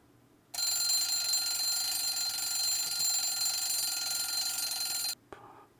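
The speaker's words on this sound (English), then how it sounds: "I'm awakened by the sound of the alarm for the first time in 2 days." A bright, continuous electronic alarm clock rings in the Amber Quartz visual novel game, a loud, steady tone with a sharp start that holds for about four and a half seconds and then cuts off abruptly, leaving quiet background.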